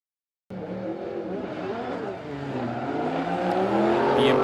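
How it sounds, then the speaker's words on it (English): BMW drift cars racing at Suzuka during a Formula Drift Japan event, with engines roaring and tires squealing in a loud, sustained wash of sound that builds steadily. "BMWs battling each other,"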